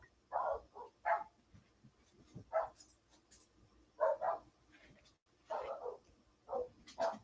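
Dogs bark in short bursts, single and double woofs scattered with pauses, moderately distant and with no talking.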